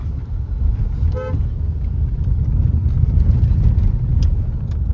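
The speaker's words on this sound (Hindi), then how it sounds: "और जीत इसलिए हॉर्न दे रहे हैं क्योंकि बहुत नैरो रोड है," A car horn gives a short toot on a very narrow mountain road in Chakrata, Uttarakhand, rising loud above the steady rumble of the car's engine and road noise.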